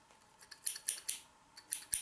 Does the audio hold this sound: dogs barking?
no